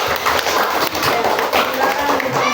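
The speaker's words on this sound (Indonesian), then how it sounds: "Tepuk tangan dulu untuk kelompok 1." Children in a classroom clap for a group of classmates, a brief burst of close, uneven hand claps with voices mixed in over it.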